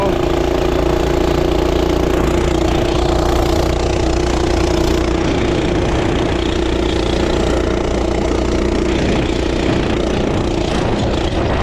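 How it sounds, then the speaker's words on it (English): Coleman B200R minibike engine fitted with an aftermarket exhaust pipe and torque converter, running loud and close with a steady raspy drone throughout and slight rises in revs, no talking. "this is significantly louder with this aftermarket pipe"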